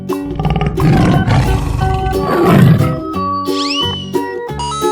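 A tiger in a 3D animal slide video game lets out loud, rough roars in two big bursts, followed by bright tonal game music notes and chimes, with no speech.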